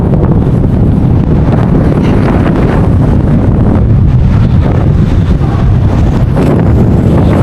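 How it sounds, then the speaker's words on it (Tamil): Strong wind at a mountain viewpoint in Theni district buffets the microphone, producing a loud, continuous roaring rumble that never lets up, with no talking. "காற்று வந்து பார்த்தீங்கன்னா நம்மளை தள்ளுது"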